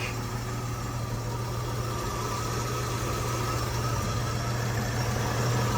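A 1952 Chevrolet 3100 pickup's engine idles with a steady, low rumble, continuous, even and close, with no voices or other sounds over it.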